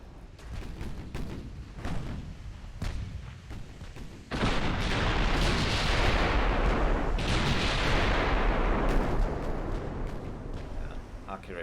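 Heavy naval guns fire a salvo in the battleship game Ultimate Admiral: Dreadnoughts, with a few sharp reports giving way to a long, loud rumbling roar. Someone talks over the first part.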